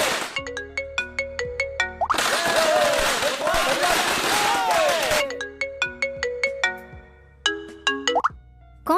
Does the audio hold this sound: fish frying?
no